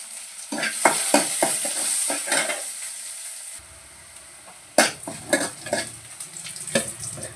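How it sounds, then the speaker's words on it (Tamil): Fenugreek, mustard seeds, onion and curry leaves fry and are stirred in hot oil for a Kerala fish curry tempering, a steady sizzle broken by repeated scraping stirs, with a brief quieter gap midway. "கொஞ்சம் வெந்தயம், கொஞ்சம் கடுகு போட்டிருக்கேன், கொஞ்சம் வெங்காயம்,"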